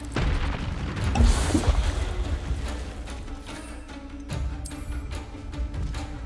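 A Confringo explosive spell in Hogwarts Legacy goes off as a deep, booming blast early on, followed by further thuds and crackling spell effects with a faint rumble underneath.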